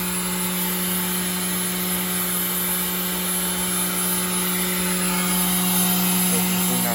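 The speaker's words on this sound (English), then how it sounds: "This is the parts washer for all like the drive shafts and all the parts that we use to build drive shafts" Shop parts washer used for drive shaft parts runs with a steady loud whirring drone and a constant hum, cleaning an oil pan from a 1999 C5 Corvette.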